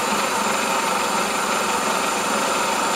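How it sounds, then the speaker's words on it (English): A 1997 Toyota Camry engine idles steadily with its idle air control valve unplugged, giving a continuous, even, fairly loud hum with a bright high whine and no voices. "Now, I have unplugged the idle air control, and now it runs smoother."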